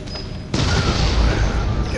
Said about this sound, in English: These bombs are so easy.